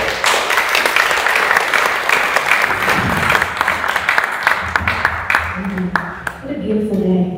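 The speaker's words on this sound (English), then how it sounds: "Round of applause for that" An audience applauds after a guitar performance at a Sunday gathering, with dense clapping fading toward the end as voices and a low tone come in beneath it.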